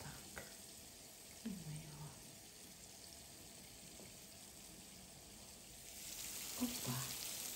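Potato croquettes with sausage and brie cheese fry in oil with a soft, steady sizzle and hiss, quiet and continuous, with faint talking and a few light kitchen clinks over it.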